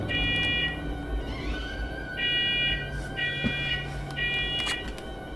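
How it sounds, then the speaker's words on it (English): A fire alarm in a room sounds a repeating electronic beep, one burst about every second, moderately loud over a steady background hum. "Had a fire alarm go off, so I had to rip the batteries out of there."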